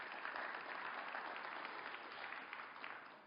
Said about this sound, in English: The applause wasn't matched by boos